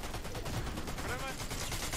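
Rapid gunfire in the video game Fortnite, a dense, steady stream of muffled shots under a wash of game noise, with a player's voice faintly present.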